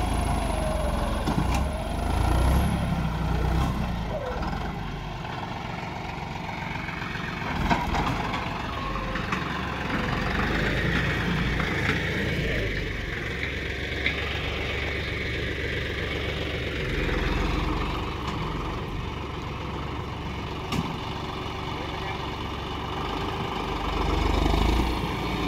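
A John Deere 5310 Gear Pro tractor with a dozer blade fitted runs steadily throughout, a continuous mid-pitched diesel rumble with small fluctuations and a few brief mechanical clanks, no talking.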